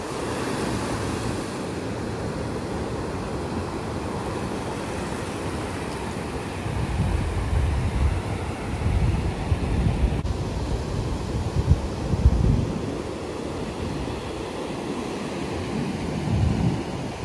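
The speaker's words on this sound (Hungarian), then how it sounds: "maga az illat, meg ugye a víznek a hangja, a morajlása nagyon megnyugtató tud lenni" Steady ocean surf rolling onto a Texas beach, a continuous low rumbling wash with gentle swells in loudness, heard alone with some wind buffeting the microphone.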